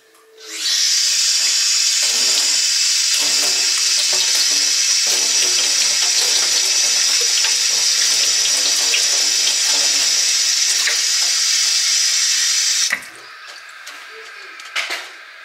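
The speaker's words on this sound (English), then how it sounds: "I'm gonna rinse this off" A tap runs steadily for about twelve seconds as something is rinsed beneath it, then shuts off, leaving faint handling noises.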